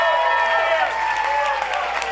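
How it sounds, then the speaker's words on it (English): Supporters at a political campaign event applaud, a dense steady patter of clapping mixed with cheering and voices that holds at full loudness for a couple of seconds. "I want y'all to all give him a great round of applause"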